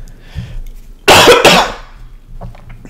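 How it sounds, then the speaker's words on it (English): A man with a sore voice coughs in one loud, harsh burst of about half a second, with faint room noise before and after. "Keep coughing."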